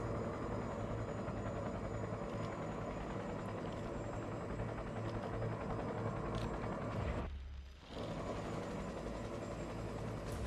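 A flying vehicle passes over Night City in Cyberpunk 2077, its steady whirring rotor drone filling the scene continuously with one brief dip near the end.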